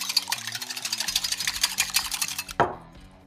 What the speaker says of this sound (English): Let's whisk them up.